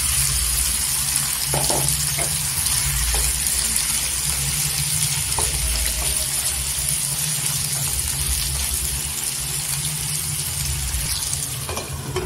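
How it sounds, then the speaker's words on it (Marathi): Mixed vegetables frying with tomato masala in a pan for a soybean pulao give a steady, even sizzle that holds throughout, with a few soft clicks and no voices. "टोमॅटो परतून झाल्यानंतर आपण ज्या भाज्या ठेवलेल्या 15 मिनिटं मसाला लावून त्या टाकायच्या।"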